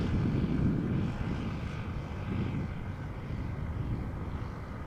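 Airplane climbing out after takeoff from Amsterdam Schiphol Airport, a steady broad engine roar heard from the ground, loud and continuous with low rumble that swells and fades slightly, with no voices.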